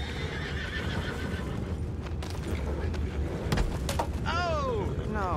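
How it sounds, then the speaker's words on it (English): In Red Dead Redemption 2, horses whinny with a rising, quavering neigh near the end, while hooves clip-clop beneath a windy outdoor ambience and a voice speaks briefly. "You mind the horses?"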